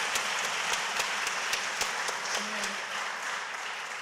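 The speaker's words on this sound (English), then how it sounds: "give it a round of applause" A room of people at a Cleveland City Council meeting applauds with steady, dense clapping that swells and then tapers off over a few seconds, close and lively.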